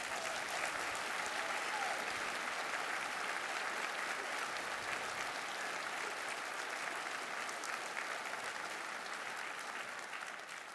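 Steady, dense applause from a conference audience at a closing plenary session, a continuous wash of many hands clapping at even loudness throughout with no voices on top, fading slightly at the end.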